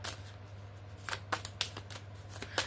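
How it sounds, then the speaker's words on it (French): Tarot cards shuffled by hand, a run of crisp riffling flicks and snaps, close and fairly quiet, over a steady low hum with no talking. "on me dit de tirer une dernière carte"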